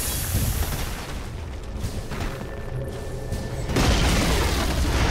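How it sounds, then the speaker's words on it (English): Dota 2 match with a tower under attack and falling: a continuous rumble of booming, artillery-like blasts and battle noise, growing louder near the end as the tower collapses. "Radiant's middle tower has fallen."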